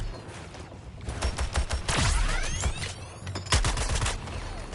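A video game airstrike: rapid bursts of gunfire and sharp impacts, with descending whistling streaks and heavy blasts landing close and loud over a few seconds.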